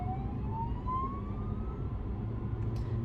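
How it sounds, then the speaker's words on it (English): An ambulance siren wails at a distance, a faint rising tone drifting over the steady rumble of traffic, with no talking. "It's an ambulance."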